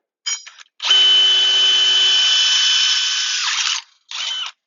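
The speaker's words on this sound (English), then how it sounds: "Then I'll take the drill, mark the holes, and drill them out." A power drill boring holes for stair assembly on a rolling barge hillside setup, a loud sustained high whine for about three seconds, then a short separate burst, with brief whirs at the start.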